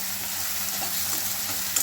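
Green chillies sizzle in a hot tadka for Maggi noodles, a loud, close, continuous frying hiss with light stirring, and no voices over it.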